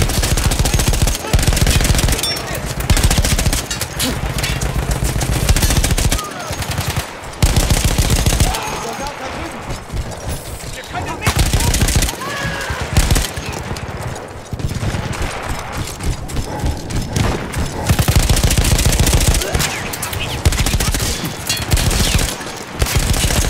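A mounted machine gun in Battlefield 1, seized from Austro-Hungarian troops, fires in loud sustained bursts with brief pauses between them, the rattling rounds dominating throughout and a voice faintly underneath.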